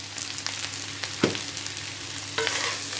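Plum curry (aloo bukhara) with salt, chili and turmeric is stirred in a pan: a steady soft sizzle with scraping spoon strokes, one sharper knock midway and another later, close and moderately loud, with no talking.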